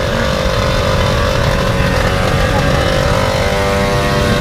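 A Suzuki Raider motorcycle engine drones loudly and steadily on a farm. The revving stays close and continuous throughout and covers everything else.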